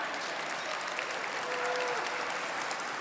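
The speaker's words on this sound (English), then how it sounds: "applause for them" Applause from the audience at an annual honoree dinner, steady continuous clapping throughout with faint crowd murmur underneath.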